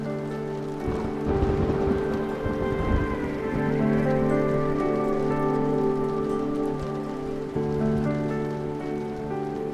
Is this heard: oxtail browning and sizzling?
no